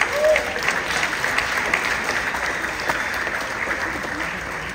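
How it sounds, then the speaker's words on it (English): An audience at a spring sports awards night applauds the seniors, a sustained even wash of many hands clapping at once that tapers slightly toward the end. "So let's have a round of applause for the seniors."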